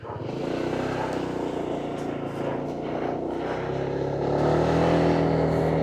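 Honda Click 160 scooter, a 2026 model, revving hard through its loud exhaust, a steady close-up engine roar that swells louder toward the end, with no talking.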